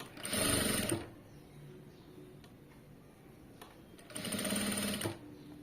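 A sewing machine stitches thread piping in two loud, close bursts of rapid whirring, each about a second long, with a quiet gap of a few seconds between them.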